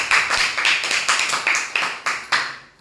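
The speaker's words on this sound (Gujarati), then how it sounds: "ચલો સરસ જોરદાર તાળીઓ પાડો" A group of students in a classroom claps in a steady rhythm, about nine sharp, evenly spaced claps with no talking over them.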